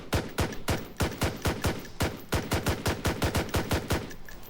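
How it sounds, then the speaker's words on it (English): Rifle fire in Blackhawk Rescue Mission 5 cracks out in rapid, evenly spaced shots, with clusters of 3-round bursts mixed with single semi-auto shots. The shots are loud and close, with no talking over them. "That was a recoil comparison, the 3-round burst compared to semi-auto."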